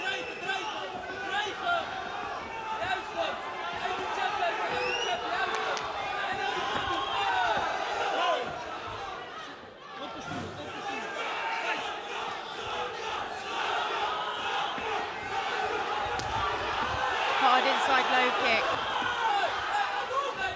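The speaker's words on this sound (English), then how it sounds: "So the crowd is already going crazy." Loud, roaring crowd cheering and shouting at an ENFUSION 132 kickboxing event, a dense continuous wall of voices that swells toward the end, with a commentator talking over it.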